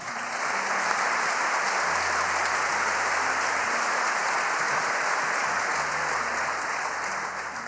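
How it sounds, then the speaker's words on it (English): A large audience at a Pearl Harbor commemoration ceremony applauds the choir, a dense, steady wash of clapping that holds evenly throughout with no letup. "let's give another round of applause to the choir"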